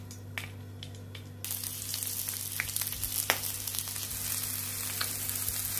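Onion and cabbage sizzle in hot oil in a pan, with a quieter hiss that jumps to a loud, steady frying roar as the cabbage goes in, with light clicks of stirring throughout.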